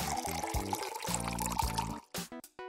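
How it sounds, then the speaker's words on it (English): Water poured from a container into a bowl packed with rolled-up paper bills, a steady close pour lasting about two seconds before tapering into a few brief splashes and trickles. "Pour water into the bowl"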